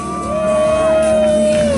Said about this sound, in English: let's start cheering these folks on